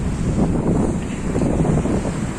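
Sea waves and wind roar at Devbag beach, where a river meets the sea, in a loud, continuous wash of surf with heavy wind buffeting the microphone.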